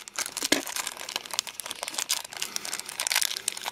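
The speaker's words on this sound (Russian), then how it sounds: "Сейчас мы достанем с пакетика." A plastic bag crinkles up close as a Soviet 1989 commemorative three-ruble coin marking the Armenian earthquake is drawn out of it, giving steady crackling rustles with a few sharper crunches and no talking.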